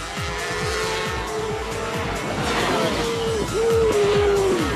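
Motorcycles racing, the 12 bike and the 88 bike, roaring close by with engine notes climbing and dropping through gear changes, a loud continuous whine rising toward the end.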